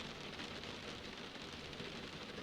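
Rain falls steadily through a rainy night, a soft, even hiss of drops with no breaks, quiet and uniform throughout, and no voices.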